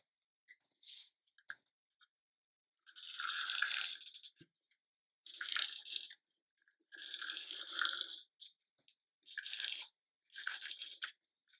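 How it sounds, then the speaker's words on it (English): A tape runner rolls adhesive tape onto a greeting card in several separate short rasping strokes, close and clear with quiet pauses between passes, no one talking. "Now we'll use the tape runner."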